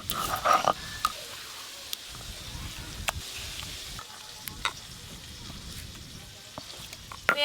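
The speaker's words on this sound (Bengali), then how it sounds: "পেঁয়াজ আর টমেটো একটু ভালো করে ভাজা ভাজা হয়ে গেছে" Chopped onion and tomato with black cumin fry in a pan, giving a soft steady sizzle with occasional scrapes and clinks of stirring, fairly quiet and close, with no talking.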